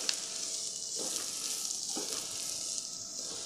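Mixed vegetables with capsicum frying in a pan over medium flame, a steady soft hiss and sizzle with a few brief stirring scrapes.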